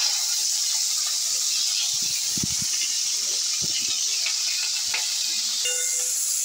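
Onion frying in hot oil in a pan with a torn bay leaf and chicken skin, a steady loud sizzle and hiss throughout with occasional stirring clinks and pops.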